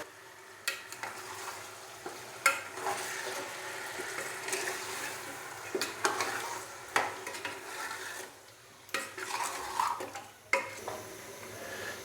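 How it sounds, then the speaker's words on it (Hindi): Beef sears in oil in a karahi for Peshawari namkeen karahi, irregular metal clanks and scrapes of a spatula recurring over a low, steady sizzle, close by. "अभी मैं बीफ के गोश्त को अच्छे से भून लूँगा 5 से 7 मिनट के लिए ऑयल के अंदर"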